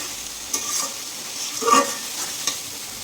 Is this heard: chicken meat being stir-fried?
yes